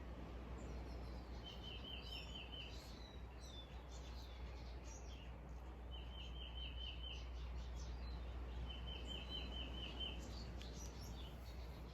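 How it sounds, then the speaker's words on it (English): Small birds tweet outdoors on a breezy day, with repeated short trilling chirps in three bursts and scattered calls over a steady wind hiss, faint and at a distance. "Birds are tweeting."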